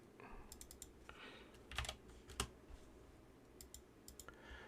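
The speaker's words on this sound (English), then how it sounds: "he's typing" Quiet, irregular clicking of someone typing on a computer keyboard, short bursts of keystrokes with brief pauses, faint background room noise and no talk.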